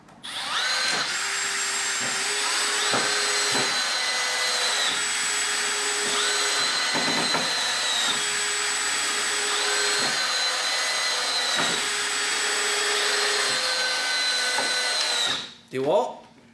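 DeWalt Atomic and Milwaukee M12 Fuel compact drill-drivers run, whining at high pitch in repeated bursts close up, with a few brief knocks between them and a short clatter at the end.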